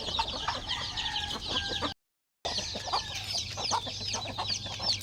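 Chickens clucking and squawking close by, a busy flock calling continuously over a low background hum, with a brief gap of silence midway.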